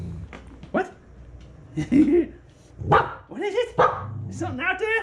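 A dog barks several times in sharp bursts, with whimpering yips mixed in, close by indoors, while a person talks over it.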